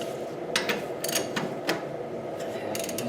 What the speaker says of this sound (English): I have to use a ratchet.